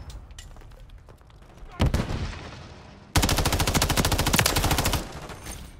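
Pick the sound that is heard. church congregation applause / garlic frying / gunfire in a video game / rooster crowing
gunfire in a video game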